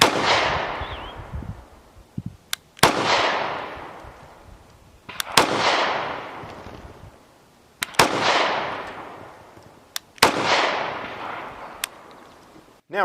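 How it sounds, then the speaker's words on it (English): A Beretta APX A1 Compact pistol fires four loud, sharp shots about two and a half seconds apart, each followed by a long echoing decay, with faint clicks between shots. "this is just the smaller version of the original, the compact, but really shoots like a full-size gun"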